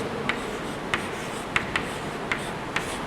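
Chalk writing on a board, a series of sharp taps and short scratchy strokes at an uneven pace, close and clear against faint room noise.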